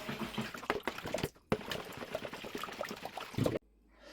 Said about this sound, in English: We need to dissolve that yeast into the water.